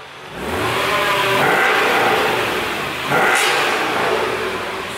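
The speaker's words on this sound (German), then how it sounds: "Ja, dann gib mal einmal Gas. Nochmal bitte." A warmed-up Mercedes-AMG engine revved while standing still, two loud close throttle blips rising and falling over a rumbling idle.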